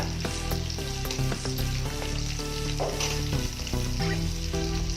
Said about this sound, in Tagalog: Mantika, mainit na nga po yung ating kaserola. Maglalagay po tayo ng mantika.